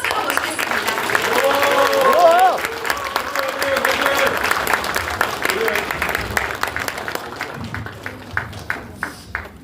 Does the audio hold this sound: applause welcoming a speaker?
yes